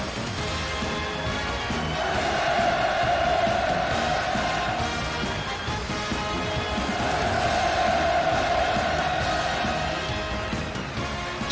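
An audience at a commemorative art performance marking the 73rd anniversary of victory in the Fatherland Liberation War cheers in a massed, continuous roar that swells twice in long waves, dense and loud from start to finish.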